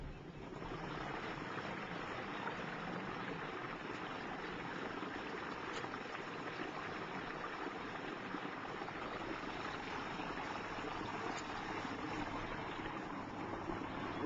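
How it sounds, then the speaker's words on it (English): Water from a stream in the Ozarks of Shannon County, a constant, even rushing wash that holds steady throughout without pauses, moderately faint and with no voices over it. "Can you get the sound of that water at all, you think?"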